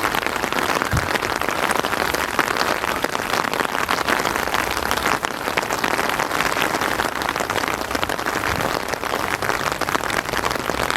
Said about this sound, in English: And the rain's getting really terrible now.